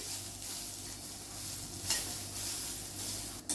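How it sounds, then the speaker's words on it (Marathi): Grated beetroot sautés on a low flame, giving a soft, steady sizzle that runs throughout, with a brief scrape of stirring near the middle and again at the end. "किस परतून घेऊया आपण आपण बारीक गॅसवरच परतून घेतोय"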